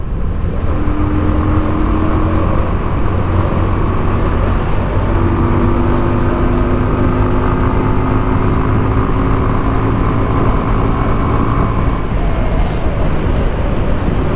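A Yamaha V-Star cruiser motorcycle on a night ride, its engine a constant loud drone with steady tonal hum and wind rush, holding an even pace the whole way through.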